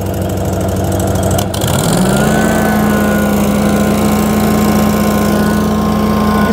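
A Grand LX VMT vacuum unit's engine revs up. Its close, steady idle drone dips briefly, then its pitch climbs smoothly and holds at a higher, sustained RPM with no talk.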